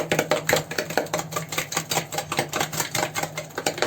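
A spoon beats two eggs with a cup of sugar in a bowl, producing fast, even clinks and taps in a steady rhythm, close and fairly loud, with no talking.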